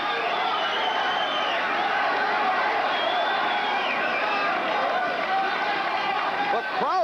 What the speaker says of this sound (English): The crowd responding to the underdog, Alfonzo Ratliff.